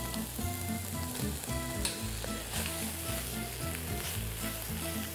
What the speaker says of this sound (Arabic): دلوقتي بقى نبتدي ناخد الزودلز بتاعتنا وننزل بيها